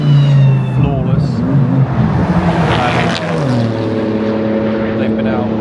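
Race cars lapping the Silverstone circuit at the end of a track day, engines droning and shifting pitch as they pass at mid-distance, a loud continuous motor sound with no talk.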